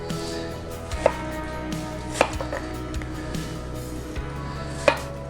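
A knife cuts a seedless watermelon into bite-sized cubes on a cutting board, with a handful of sharp, separate chops over a low background hum and no talking.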